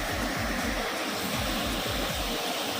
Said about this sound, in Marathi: धबधबा बघा आतमध्ये दिसतंय तुम्हाला. आवाज तर येत असेल.